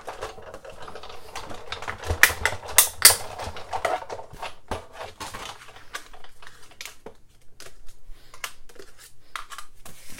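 A paper crafter runs lily pad shaped dies through a die-cutting machine, giving a dense, loud run of cranking clicks and crunches that thins into sparser, softer ticks toward the end, close up with no talk.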